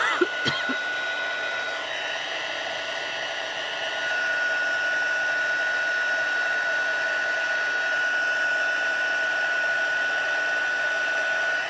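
Steady whirring blow of an embossing heat tool warming a handmade card with foil embossing, a continuous close drone with a faint high whine that runs without pause and no talking.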